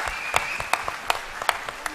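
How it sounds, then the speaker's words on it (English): Audience applause at a school event, with sparse individual claps standing out in a roughly regular rhythm over a steady bed of softer clapping. "Please give him a very big round of applause for this."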